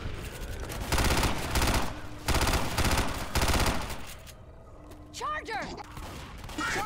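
Bursts of Tommy gun fire in Left 4 Dead: several rapid automatic volleys, loud and close, separated by short pauses, followed by quieter game sounds and chirps with voices mixed in.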